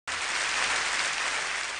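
A studio audience at an errenzhuan comedy stage show bursts into dense, even applause, loud and close, holding steady for nearly two seconds with no voices over it.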